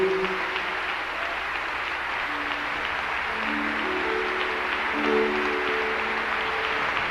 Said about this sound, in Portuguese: Aplauda para valer.